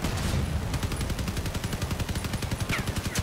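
Rapid, rhythmic machine-gun fire from a swarm of imp machine guns in a video game, sustained loud bursts at a steady fast cadence throughout with no talking.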